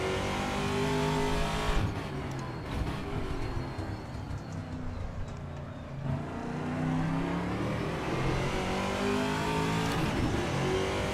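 A Dallara IR-18 IndyCar engine screams through revs and gear changes in the Assetto Corsa racing game, loud and continuous, rising and dipping with a brief lift near the middle, with faint tire noise beneath.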